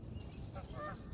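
Geese near a fishing spot by the water honk in a faint, distant series of short repeated calls over low outdoor background noise, with no one speaking.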